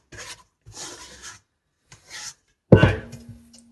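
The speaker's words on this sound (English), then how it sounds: "I'm going to use my scraper all over my hands." A scraper rasps over dough-covered hands in separate strokes, four gritty scraping bursts with short pauses, the last one harder and louder, close to the ear.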